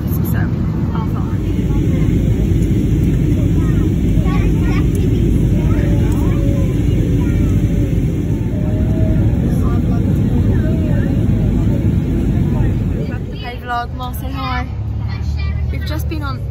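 Steady, loud broadband roar of an airplane cabin in flight, constant engine and air noise filling the whole stretch, with a shift in tone near the end.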